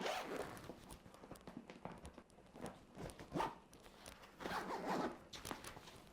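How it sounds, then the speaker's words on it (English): Zippers on a Tenba Solstice 24L camera backpack being pulled open in several quick rasping strokes, close and fairly quiet, with brief pauses between pulls. "So getting the zips."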